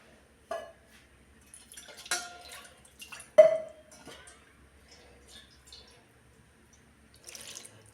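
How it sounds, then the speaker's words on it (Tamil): Water poured into fish curry in a pot while cooking, a few short splashes and pours with a clink or two of utensils, scattered and fairly quiet against near silence. "இன்னும் கொஞ்சம் தண்ணி சேர்த்து நம்ம இதை கலந்து விட்டுருவோம்."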